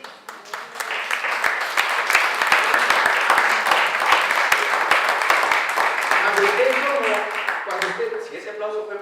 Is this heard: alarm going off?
no